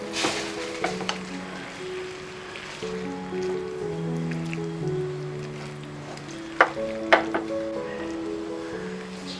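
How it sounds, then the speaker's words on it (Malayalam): Egg chilli frying in a pan gives off a soft sizzle while a spoon stirs it, with a few sharp clacks near the end. Steady tonal background music runs throughout, and no one speaks. "ഇനി നമുക്ക് ഇതൊന്ന് ഇളക്കി കൊടുക്കാം എല്ലാം കൂടെ എല്ലാം കൂടെ കൂട്ടി ഇളക്കി"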